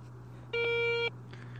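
A Garrett Ace 250 metal detector sounds a single clear, steady tonal beep of about half a second over a buried target, close and alone against a faint low hum.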